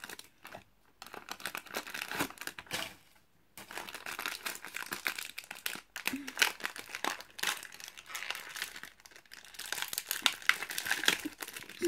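Crinkly plastic blind bag packaging rustled and torn open up close, irregular crackling bursts with brief pauses.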